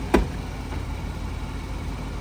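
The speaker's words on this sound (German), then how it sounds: "Motor läuft gut, Leute." A Mercedes-Benz SL 500 R129, over 30 years old, idles at close range with a steady low rumble, preceded by one short click near the start.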